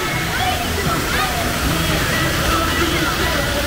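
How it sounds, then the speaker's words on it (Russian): Water rushes steadily along a lazy river at a large water park in Anaklia, Georgia, a loud, dense splashing roar with a voice faintly mixed in. "Это ленивая река, она сюда приходит."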